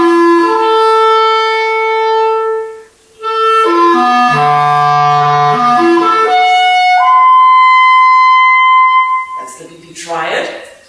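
Microtonal 3:5:7 triad in a stretched 13-step scale, heard as bright electronic tones stacking into a chord with notes entering and shifting, loud and alone with a short gap partway.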